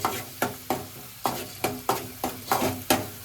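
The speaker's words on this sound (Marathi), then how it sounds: "कांदा पण चांगला फ्राय करायचा" Onion frying in oil in a pan for Malvani pomfret fry, stirred with a spoon in regular strokes that scrape and clack about every third of a second over a soft sizzle, close and without speech.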